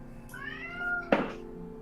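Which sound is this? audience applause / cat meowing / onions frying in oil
cat meowing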